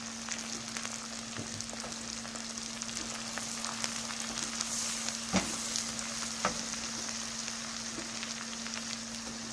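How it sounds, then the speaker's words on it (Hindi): Salt, chili and turmeric sizzle and fry steadily in a hot pan, with a low hum beneath and occasional clinks of a spoon stirring. "इसको भून लूँगी मैं थोड़ा सा"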